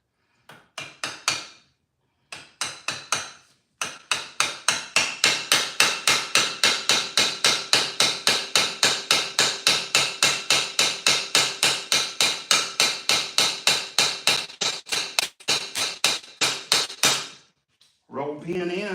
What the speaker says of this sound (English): So now we should be able to drive our roll pin back in.